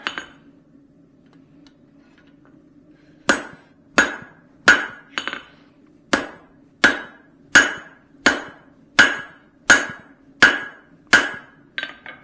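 After about three seconds of quiet, a hammer pounds the peen of a forged Swedish-style cross peen hammer head, giving roughly a dozen sharp, ringing metal strikes in a quick, regular rhythm, close and loud, with no voices.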